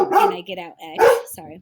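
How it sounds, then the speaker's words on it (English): A pet dog barks a few times in a room, sharp yips breaking up a person's spoken explanation, with the talking continuing around and between the barks. "that's my dog."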